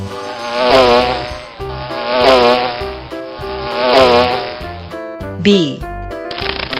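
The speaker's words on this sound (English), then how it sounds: "Bee." A bee buzzes in three rising and falling swells over a bouncy children's music track, with a short sliding effect near the end.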